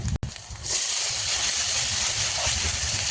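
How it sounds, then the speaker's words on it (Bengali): Bombay duck fish tipped into a pan of frying onion, chilli and garlic, setting off a loud, steady hiss of sizzling oil after a short quieter moment, with no voices. "এবার আমি এখানে লোটে মাছগুলো দিয়ে দেবো।"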